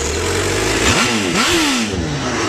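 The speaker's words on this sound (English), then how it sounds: "I try and do this every time now, just to give you a sound of what the exhausts are." A Honda Fireblade motorcycle starts and its exhaust is blipped in two quick, loud revs that rise and fall before settling back to a close, steady idle.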